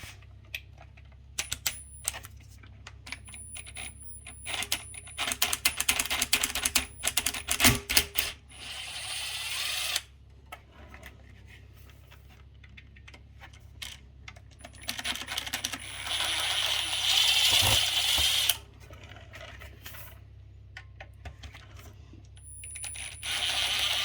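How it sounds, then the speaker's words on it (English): Screws and plastic clamps being removed from a CT Sounds Strato 10-inch subwoofer during a recone: scattered small metallic clicks, ticks and rattles of parts being handled, close and intermittent, with quiet gaps between and no talk. "we're going to remove these screws right here that hold on the spider landing and the little clamps"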